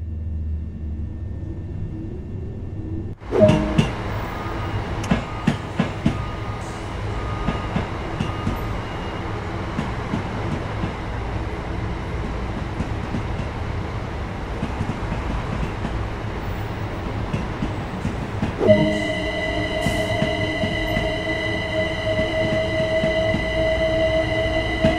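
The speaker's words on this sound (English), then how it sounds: "Express Class 387 electric multiple unit and consists of 8 cars" A Class 387 eight-car electric multiple unit train in the video game Train Sim World 2 starts up and runs steadily, its motor humming and whining with rhythmic rail clicks, the whine rising in pitch later on.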